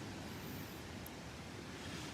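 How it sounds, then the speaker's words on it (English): Surf rolls in at Delnor-Wiggins beach on a morning with rough surf conditions, heard as a soft, continuous wash of breaking waves mixed with light wind, faint and steady with no voices. "The surf is up."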